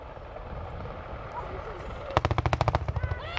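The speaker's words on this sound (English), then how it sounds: "strafed from the Apache's 30mm cannon, strafing the building" An Apache helicopter's 30mm cannon strafing a building during a commando assault display at an air day, heard as a rapid burst of about a dozen sharp reports at a distance over steady crowd and engine noise.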